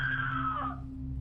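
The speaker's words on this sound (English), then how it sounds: "contend the scream was merely a sound effect" A woman's high, sustained scream on a played call recording rings out alone for about a second, sliding slightly downward before fading over a steady low electrical hum.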